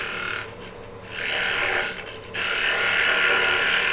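A hand tool scraping wood to shape a wooden bow tie gives close, rasping strokes, three broad passes with brief pauses between, steady and fairly loud.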